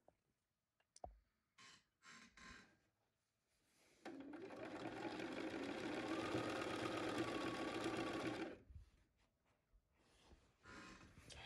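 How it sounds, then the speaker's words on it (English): A sewing machine running a straight stitch along the folded hem of a cloth napkin, a steady close whirring hum for about four seconds, framed by clicks and handling noises of the fabric. "You're then going to run a row of straight stitches about 1/8 inch from the edge of that inner fold."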